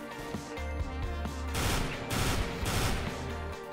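Automatic gunfire rattles in a CS:GO match, bursts of rapid machine gun shots crackling loudly and close, broken by short gaps, with no talking.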